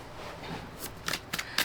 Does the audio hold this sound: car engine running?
no